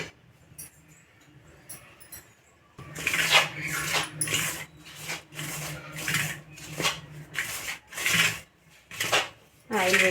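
A hand mixes ragi flour and wheat flour with oil and salt in a bowl. After a quiet start comes a series of rhythmic rubbing, scraping strokes, roughly a dozen close bursts with brief gaps between them.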